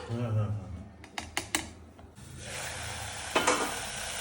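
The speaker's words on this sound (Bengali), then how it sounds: "এই যে কষানো প্রায় শেষের দিকে আর একটুখানি কষাবো" Mutton curry browns in a pot while a spoon scrapes and stirs it, a few sharp clinks early on, then a soft steady sizzle with another scrape near the end; a voice is faintly present.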